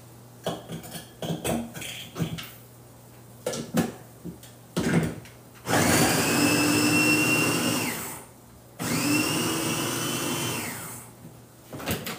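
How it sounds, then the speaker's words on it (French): Garlic, ginger and shallot are crushed together for chicken rice. Clinks and knocks of kitchenware lead into two loud, close whirring motor bursts of a few seconds each. "j'ai écrasé l'ail, le gingembre et puis un peu d'échalote ensemble"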